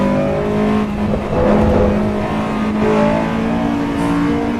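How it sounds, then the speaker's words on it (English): Engine of a Honda S2000 sports car fitted with a K&N full air induction kit in the racing game Assetto Corsa EVO, a steady loud droning rev held throughout with slight rises and dips in pitch, no talking. "I find that the S2000 audio is the same as what mine sounded"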